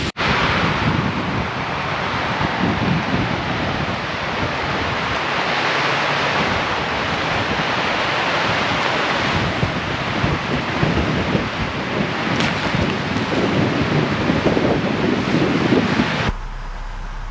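Strong wind buffets the microphone in a steady, roaring rush at Klein Lake, with gusts rising and falling throughout and no voices.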